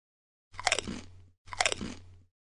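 Two crisp bursts of someone eating, crunchy chewing of food heard up close, each lasting under a second and separated by silence.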